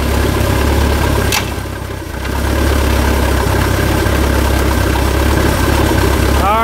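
A vehicle engine idles with a loud, steady low rumble throughout, dipping briefly near the start before settling back to an even drone.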